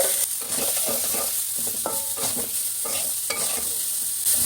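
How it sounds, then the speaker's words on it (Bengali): Potatoes fry with salt in a little oil in a hot kadai, with repeated scraping stirs over a constant close sizzle and no voices. "লবণ আর দিয়ে আলুগুলো ভেজে নেব"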